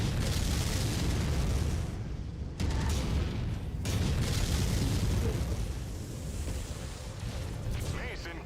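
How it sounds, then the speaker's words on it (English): Binary laser weapon fire from a mech in MechWarrior 5, heavy booming energy blasts with sharp onsets around two and four seconds over a constant dense roar of battle noise. "Oh, that was the binary laser."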